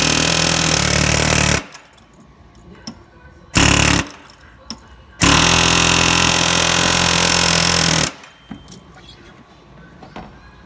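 Loud bursts of a power tool or air impact-style whir while a Chevy Silverado clutch fan is spun off its pulley, coming in two long stretches separated by quieter gaps with faint clanks and low voices.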